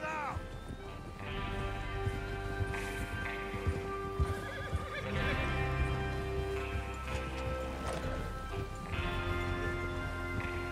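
Horses in the Red Dead Redemption video game whinny and clip-clop at a gallop, with steady hoofbeats and several neighs over a dense game soundtrack and background ambience.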